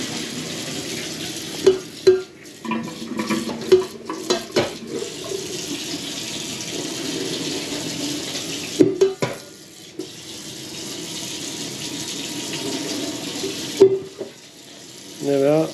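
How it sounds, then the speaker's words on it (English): Cold water runs from a tap into a kitchen sink as liquid dye for bronze mallard cinnamon feathers is poured through a colander, giving a steady splashing rush with intermittent clanks and sloshing bursts nearby. "run the cold water, and then I usually just pour it through the colander"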